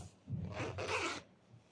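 A zipper on a small crocheted pouch is pulled open in one quick rasping stroke, close and soft, with a short pause partway through.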